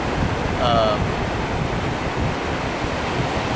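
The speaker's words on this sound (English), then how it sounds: "watching the waves roll in is very relaxing" Continuous roar of ocean waves rolling onto shore with wind noise, a brief faint whistle-like call near the start.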